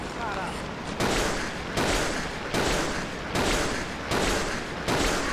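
Gunfire from Resident Evil 0 Remastered as a magazine is emptied: loud, dense bursts of shots repeat in regular volleys, about six pulses with brief gaps, heard with no talk over them.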